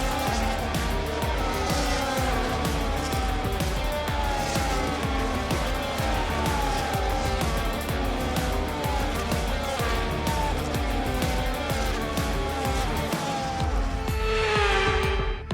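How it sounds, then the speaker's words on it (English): Grand Prix race cars roll around on a formation lap back to the starting grid on a dry track, a dense, continuous engine roar with overlapping revs from several cars close by. "As the cars make their way back to the starting grid to form up and get ready for lights out"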